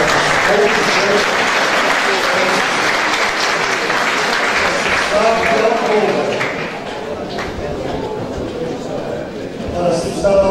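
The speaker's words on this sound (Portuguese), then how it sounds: "Uma salva de palmas para os" Applause from an audience at a diocesan day gathering in Beja, loud and sustained throughout, with voices and crowd noise mixed in.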